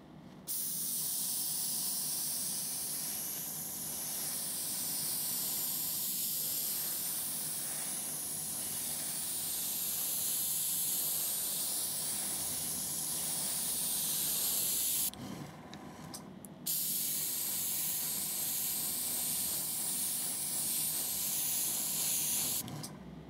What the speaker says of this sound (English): I'll spray this up.